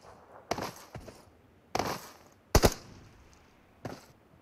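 Gunfire in the shooter game Battlegrounds: four or five sharp, separate shots spaced about a second apart, fairly faint, each with a short tail.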